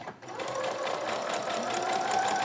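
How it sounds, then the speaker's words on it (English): A sewing machine stitches steadily along the edge of a rose scrunchie's fabric, a continuous close, even motor whir with rapid needle rhythm running throughout, no voices. "I try to sew it as close to the edge as possible"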